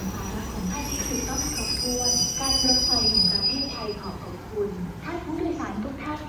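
Diesel railcar train no. 417 of the State Railway of Thailand pulls into Bua Yai junction with steady wheel rumble and high metallic squeal, while people talk nearby throughout.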